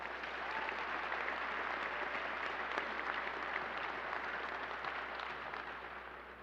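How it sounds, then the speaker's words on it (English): A crowd at an Air Force enlisted force exhibit opening ceremony applauds former chief master sergeants and their spouses, a dense, steady wash of clapping that holds for several seconds before starting to taper. "Y'all give them a big hand clap."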